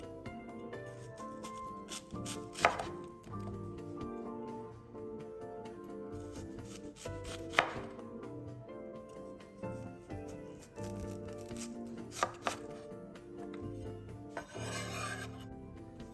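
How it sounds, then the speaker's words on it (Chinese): A knife cuts an onion into rings on a board, with rhythmic rasping strokes and a few sharper thuds spaced through a steady run, under background music. "这一个就切成圈。"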